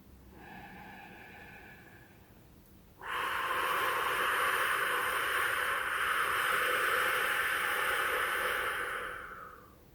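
Deep, slow breathing during a calm affirmation exercise for social anxiety: one long, steady, airy exhale that swells suddenly and holds for several seconds before fading, close to the listener.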